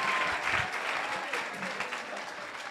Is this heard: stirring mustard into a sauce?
no